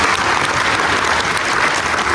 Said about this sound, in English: let's give a big round of applause to our police chief